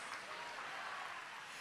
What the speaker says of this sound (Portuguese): Dá uma salva de palmas para esse Deus maravilhoso